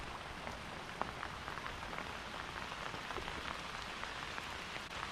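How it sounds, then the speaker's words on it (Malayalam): Rain falling outdoors during fishing, a steady, even patter of drops with a few sharper taps, moderately faint and continuous with no talking. "മഴ പെയ്തിട്ടുണ്ട് കേട്ടോ നമുക്ക്"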